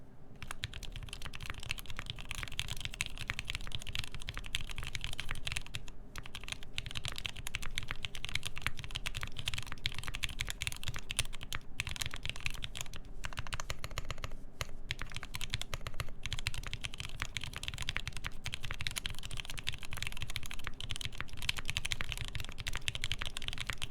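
Steady, fast typing on a modded Keycult No. 1/60 mechanical keyboard, dense clacky keystrokes running continuously at an even level with no pauses.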